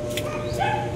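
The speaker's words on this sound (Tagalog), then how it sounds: "Ingay ng aso." A dog yelps and barks briefly in a workshop, a short whimpering yip rising over a steady background hum while a motorcycle charging system is being tested.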